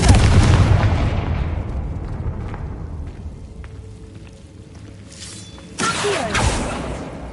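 A Confringo spell explodes in Hogwarts Legacy with a loud booming blast that decays over a few seconds, followed by scattered debris clatter and a second, smaller burst.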